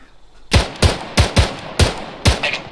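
Loud, close gunfire from the military shooter ARMA 3, six heavy shots at a fairly even pace of about two per second, each with a short boom and tail.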